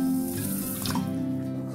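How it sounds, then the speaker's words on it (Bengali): Water pouring from a bowl onto sugar for Malpua syrup, a short close steady trickle and splash that rises briefly then settles, heard alone with no voices. "এই এক বাটি চিনিতে এই আমি এক বাটি জল দিচ্ছি।"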